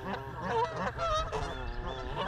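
A close, noisy goose fight at the water's edge: repeated loud honks and strained squawks from several birds overlap in uneven bursts, steady and busy throughout.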